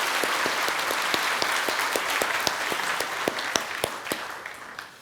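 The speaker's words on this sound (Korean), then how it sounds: "우리 박수로 환영하고 또 격려해 주시기 바랍니다." A church congregation at a Sunday worship service claps warmly to welcome a missionary to Colombia, with dense applause and distinct sharp individual claps standing out near the end.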